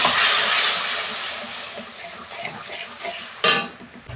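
Tomato paste hitting hot oil with whole spices in a kadai gives a loud burst of hissing sizzle that slowly dies down, then a sharp utensil clatter near the end.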